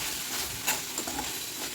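Semolina being stirred in a hot pan for upma, a soft scraping with a faint sizzle underneath, brief and close.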